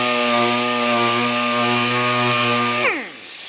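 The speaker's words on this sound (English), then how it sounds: "So you start with 80 grit and sand the big scratches out." A power sander works 80-grit paper over a scratched plastic fender with a steady, loud, close droning whine. It winds down near the end, and no one talks.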